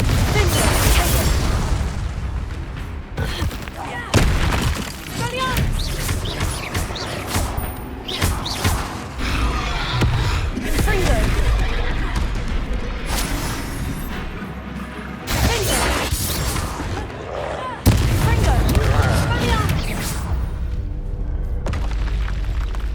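A Confringo fire spell blasts in Hogwarts Legacy, with booming explosive hits and crashing debris that recur through a busy, loud stretch of game combat sound.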